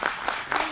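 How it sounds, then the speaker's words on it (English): Short burst of audience applause at a leadership summit and awards event, a soft wash of clapping from a crowd heard briefly and at moderate distance. "Applause for him."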